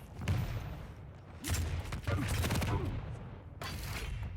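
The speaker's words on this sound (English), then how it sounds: "Big rocket from above." Rocket launcher fire and explosions in a Quake Pro League match, several loud booming blasts and bursts of in-game combat noise in quick succession.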